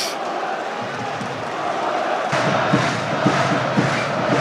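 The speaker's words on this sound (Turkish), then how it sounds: "Beykan ve Yusuf Mert alkışlar arasında kenara geliyor." A stadium crowd at a Turkish football match between Elazığspor and 68 Aksarayspor claps and cheers as two players are substituted off, a broad roar with scattered claps swelling partway through.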